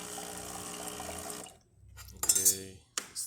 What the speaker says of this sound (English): this is the hot water.